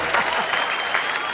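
An audience at a comedy poetry show claps loudly in a dense, continuous burst of applause.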